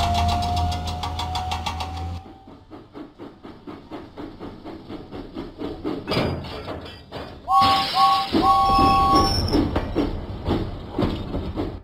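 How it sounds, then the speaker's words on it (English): A steam engine in a Thomas & Friends video game puffs out of the docks in rhythmic chuffs. Game music and clanking effects play alongside, and there is a louder burst partway through. "James pumped his pistons and puffed out of the docks"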